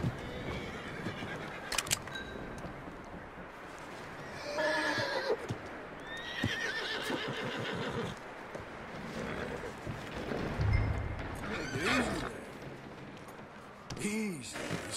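A horse neighs and whinnies loudly several times over clip-clopping hooves and thuds in Red Dead Redemption 2, with occasional background voices.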